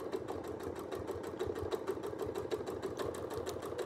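A sewing machine quilting microfills with silk thread over double batting, running in a fast, even mechanical chatter of needle strokes, steady and close throughout.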